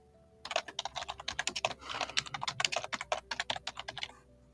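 Rapid typing on a computer keyboard, a dense run of close, crisp key clicks with brief pauses, heard alone without talk.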